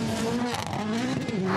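WRC rally cars on a Rally Estonia gravel stage, with a loud close engine note that rises and falls steadily as a car rushes past throughout.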